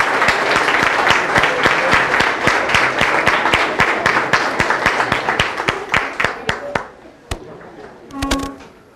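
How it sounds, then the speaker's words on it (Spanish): Audience in a classroom giving a strong round of applause for the class, dense clapping that runs loud for several seconds, thins into scattered claps and fades out, with a voice briefly at the end. "queríamos iniciar con un fuerte aplauso para ustedes"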